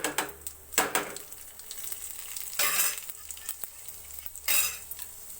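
Urad dal tempering in hot oil after cumin seeds, giving bursts of crackling sizzle with spoon stirring scrapes in between, fairly close and without talk.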